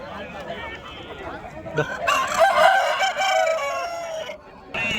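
A rooster crows loudly at a rooster market, one long drawn-out call rising and falling over market chatter and nearby voices.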